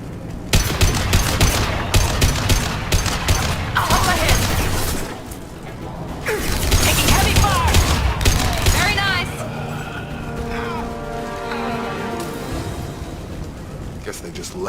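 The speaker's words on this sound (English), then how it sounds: "Blue Suns and Vorcha shooting anything that moves" Heavy gunfire in Mass Effect as Blue Suns mercenaries and Vorcha shoot it out, with dense automatic bursts and sharp shots over several seconds, then quieter mechanical and ambient effects while a character speaks.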